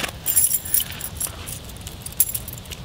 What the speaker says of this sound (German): Ich nutze diesen Metallkarabiner sehr oft für meinen Schlüsselbund.